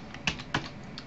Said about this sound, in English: And my clicks, my keyboard clicks.